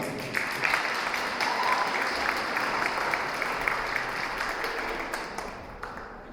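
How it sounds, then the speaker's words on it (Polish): An indoor audience at a Women's Day celebration in Chełmsko Śląskie gives sustained, dense applause that lasts throughout and fades slightly toward the end. "Wielkie brawa!"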